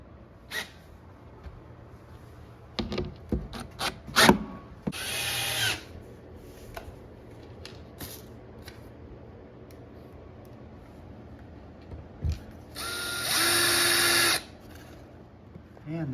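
Farmhouse cabinet assembly as fasteners are tightened with a power drill: short bursts of whirring alongside scattered clicks and knocks, and one longer, louder drill run near the end.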